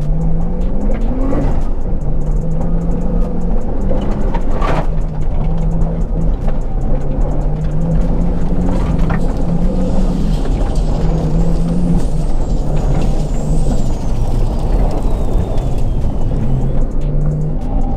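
A Nissan Skyline GTR Safari runs hard along a gravel rally stage. Its engine drones loudly and continuously, rising and falling in pitch through the gears, with gravel and wind noise filling the whole stretch.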